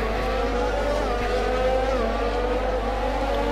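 Onboard engine of a McLaren Formula 1 car at the Canadian Grand Prix in F1 2020, a loud, steady high-revving whine with shifting pitch, continuous and close throughout, with no talking.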